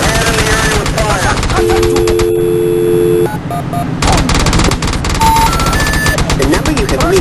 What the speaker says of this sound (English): More shots are being fired from inside the base.